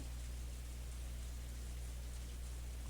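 Steady, soft rain from the visual novel game Umineko, a continuous even hiss of falling drops over a low hum, with no talking.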